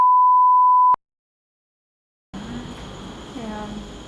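Censor beep sound effect: a single loud pure tone lasting about a second, cut off abruptly, followed by silence and then people talking.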